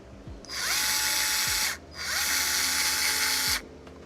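A small power driver whirs in two sustained bursts, each ramping up and cutting off, with a brief pause between, driving screws into an original Xbox controller up close.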